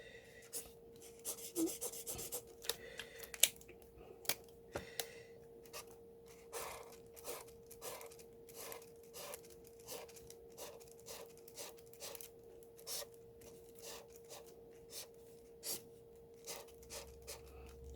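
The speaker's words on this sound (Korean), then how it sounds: "그랬을 때 이렇게 이제 스케치 하는 거예요." Pencil sketching the side view of a mid-size sedan on paper: soft, close scratchy strokes in quick uneven bursts, steady and fairly faint, with no talking.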